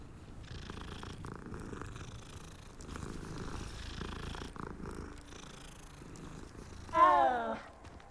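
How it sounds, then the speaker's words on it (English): A cat outdoors in the Hogwarts Legacy video game gives one short, rising-and-falling meow near the end, louder than the quiet ambient game background that runs throughout. "It's another cat outside."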